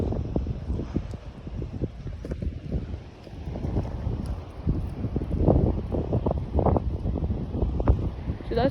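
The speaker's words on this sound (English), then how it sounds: "It's windy and stuff." Strong wind during a tornado watch buffets the microphone outdoors, a rough continuous roar with gusty surges that stays loud throughout.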